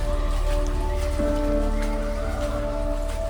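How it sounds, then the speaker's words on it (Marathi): Steady light rain falling outdoors near the Panchganga temple at Old Mahabaleshwar in foggy weather, a constant close patter with a faint tonal hum underneath, no voices. "भरपूर पाऊस होता, आता कमी झाला."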